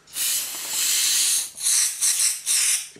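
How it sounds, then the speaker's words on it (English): Brake cleaner sprayed from an aerosol can to flush cutting oil off a machined part in a workshop, a loud sustained hiss followed by three shorter bursts, close up with no talking. "A bit of brake cleaner."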